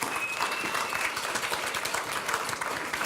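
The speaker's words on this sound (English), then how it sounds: "I really want you to put your hands together, give a warm round of applause for Leyland Melvin." An audience at a Parley x COP21 oceans and climate event applauds, with steady, dense clapping from a large crowd filling the whole stretch.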